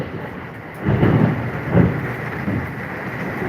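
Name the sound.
thunder during a storm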